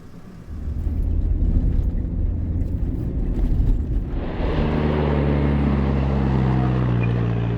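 A 4WD climbs a red sand dune in the Simpson Desert, its engine roaring steadily in third gear under hard throttle, the revs rising and settling into a deeper, sustained drone partway through.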